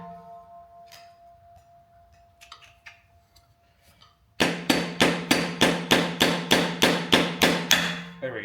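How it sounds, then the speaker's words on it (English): Metal strikes drive a screwdriver under the cap of an old wood splitter: after quiet faint rustling, about a dozen loud, evenly spaced, ringing blows hit in quick succession, close by. "I'm gonna try to get a screwdriver in there."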